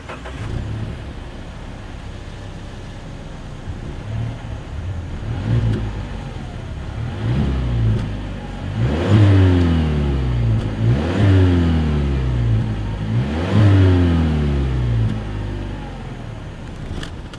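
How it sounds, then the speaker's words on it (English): A 2020 Mazda 6 idles with a deep dual-exhaust rumble, then revs sharply three times in a row, each throttle blip swelling loud and close. "As always, here is that exhaust clip."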